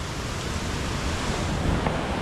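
Water flows out of a mountain village wash house near the Taranes river, a steady, loud broadband rushing close to the microphone with some wind noise mixed in.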